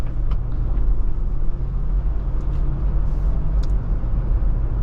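A 2007 Toyota 4Runner Limited 4WD cruising at moderate speed, heard from inside the cabin as a steady low engine and road rumble with faint tire noise, continuous and fairly loud throughout.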